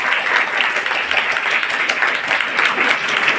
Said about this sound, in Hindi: अपने आप के लिए भरपूर तालियां लगाएं जिन्होंने ये मुकर्रर कर रखा।